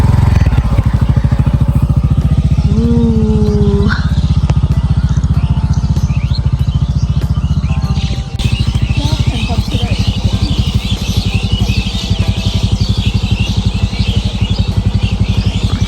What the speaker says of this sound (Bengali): বাইক চালায় আসছে।